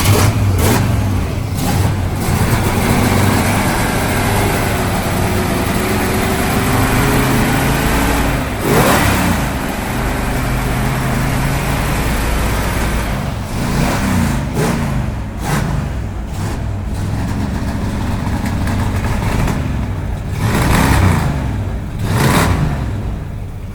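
An old restorable car with an original, uncracked block fires up and runs, its engine revving loudly in rising and falling surges close by for the whole stretch, with no talking over it.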